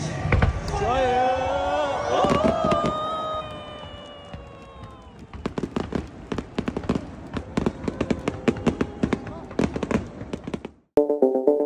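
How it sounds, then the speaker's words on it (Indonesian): Fireworks burst over a baseball stadium in Tokyo in a rapid, irregular string of sharp bangs and crackles, following a loud sustained tonal blare at the start. "di mid game dan end game, biasanya akan ada kembang api juga di sini"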